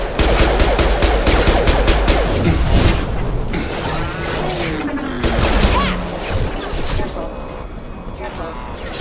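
Rapid automatic gunfire and sharp impacts rattle through a Mass Effect Legendary Edition firefight, loud and dense bursts crowding together, with shouted voices breaking in over the shooting.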